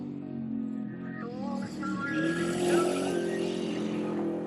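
Professional race car revving and accelerating across a frozen lake at a winter festival in Inner Mongolia, engine tones rising steadily and growing louder, with a faint edge of tire noise on ice.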